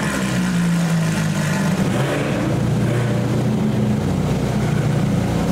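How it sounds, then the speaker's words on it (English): Several Porsche GT3, GT2 and RS cars pulling away together in a convoy from inside a Porsche site: a continuous, loud, layered engine roar with no talking. "So many iterations of GT3s, 2s, and RSs. Inside, making a lot of noise, leaving together, quite the convoy."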